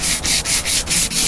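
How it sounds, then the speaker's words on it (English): Sanding the hull of a bass boat ahead of painting, a steady close abrasive rasp broken by brief pauses about every fifth of a second as the sander sweeps back and forth. "Sanding"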